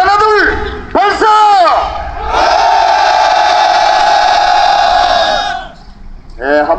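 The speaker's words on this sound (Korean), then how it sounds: "우리의 염원을 담아서 그리고 우리의 결의를 담아서 함성 한번 지르도록 하겠습니다" Marchers on a walking protest shout a collective battle cry in unison, a loud swelling group yell held for several seconds after a couple of rising shouted calls, ending abruptly before voices resume.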